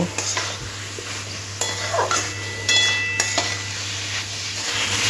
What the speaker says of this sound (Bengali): এরপরে দিয়ে দেবো গ্রেট করা পনিরটা পনিরটা ও মশলার সাথে খুব ভালো করে মিশিয়ে নেব